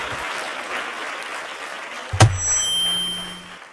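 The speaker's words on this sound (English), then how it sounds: "Everybody put your hands together" Audience applause in a church, a steady wash of clapping that fades out and is then cut by a sharp thump and a ringing electronic tone.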